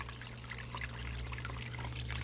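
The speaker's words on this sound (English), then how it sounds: "constant curtain of water going all the way across. It's not just dribbling." Water pours steadily across a high banker sluice table on the North Saskatchewan River in Alberta, a faint, even trickling wash over a low constant motor hum, no speech.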